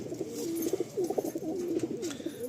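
A pigeon coos close by, a low rolling series of throaty murmurs over about two seconds, clear and alone against quiet background.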